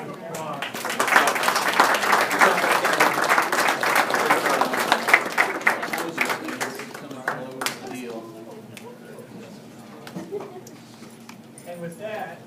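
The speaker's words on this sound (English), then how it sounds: "if we give one final round of applause." A crowd at a school board of education meeting claps steadily and loudly for several seconds, then the applause thins out and fades, with a few voices murmuring as it dies down.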